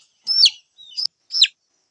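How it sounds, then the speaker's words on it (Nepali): Small chicks pecking at food, giving three short, high, close chirps spaced apart with quiet gaps between them. "चल्लाले बुबु खान्छ हो"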